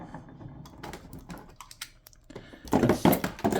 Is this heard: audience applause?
no